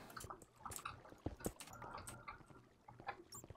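Flowing water trickles and drips through a cave in a video game, a faint, uneven patter of liquid with scattered small splashes and no talk over it.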